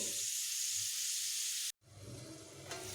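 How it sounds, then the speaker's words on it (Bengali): Papaya pieces sizzle and fry in a covered pan with a constant soft hiss that cuts out abruptly partway through, then returns more quietly. "আলুর মতোই পেঁপেগুলোকেও ঢেকে ঢেকে বেশ ভালোভাবে লাল লাল করে ভেজে নেব"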